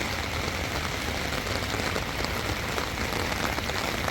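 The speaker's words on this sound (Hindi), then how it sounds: "बारिश एकदम बहुत शुरू हो गई" Heavy rain pours at a hill-station hotel in Shimla, a steady, dense hiss of drops striking surfaces, loud and unbroken throughout with no voices.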